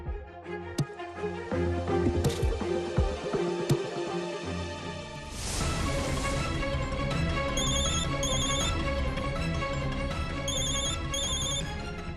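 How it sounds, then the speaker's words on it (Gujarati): A mobile phone rings with a repeated electronic ringtone, a steady chiming pattern over a dramatic musical score in a television serial scene. "આ તો ક્રિશનો ફોન છે"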